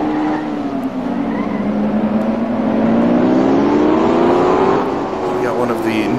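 A race car engine in the video game IndyCar Racing II, a loud steady drone whose pitch dips as the car brakes heavily into the first corner, then rises again as it accelerates out.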